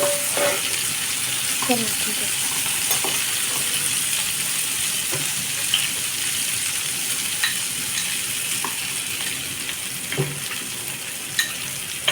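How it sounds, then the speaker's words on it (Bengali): Potatoes fry in hot oil in a pan with a steady, even sizzle and occasional light stirring clinks, close and continuous without speech. "তো এই আলুগুলো আমি তেলের মধ্যে ভাজবো"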